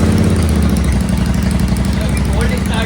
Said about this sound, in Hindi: अभी कोल्ड स्टार्ट हो रहा है।